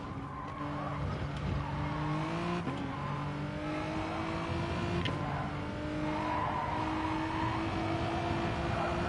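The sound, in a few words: car engine from the video game GT Sport, A45 engine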